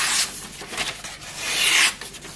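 A knife blade, stainless steel fresh off a 3,000 grit stone, is drawn across a leather strop in a few soft, rasping rubbing strokes, close and fairly quiet, with no talking.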